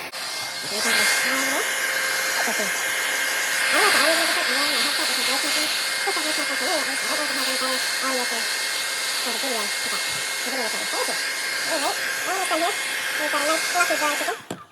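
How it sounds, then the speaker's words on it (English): A hair dryer blows steadily and loudly on a wet chicken's feathers, a continuous close whooshing drone while someone talks over it throughout. "I figured I'd show you all the last few seconds of drying"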